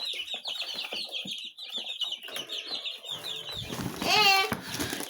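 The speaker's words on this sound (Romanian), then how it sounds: "Ciripitul păsărilor." Birds chirp busily and steadily in quick high twitters throughout, with a louder burst of calls near the end and faint background voices.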